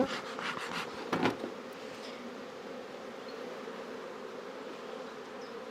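Honey bees buzz steadily on a brood frame crowded with bees in a hive, a soft continuous hum with a few brief rustles near the start.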